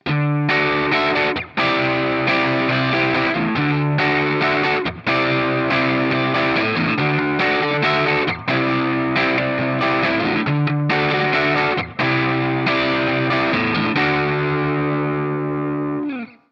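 A heavily distorted electric guitar plays a loud, chugging chorus riff in repeated bars, with brief gaps between phrases and a ringing final chord.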